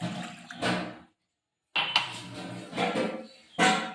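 Half a glass of water is poured into a cooking pan in a few short splashing bursts, with a silent gap between them and clinks of cookware mixed in, close by.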